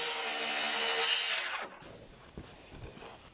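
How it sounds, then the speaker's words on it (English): A power saw cuts a wooden rim joist to length during house floor framing, a loud, steady buzzing cut that stops abruptly partway through, followed by quiet knocks and handling of the board. "Now I'm cutting our last piece of rim joist to length."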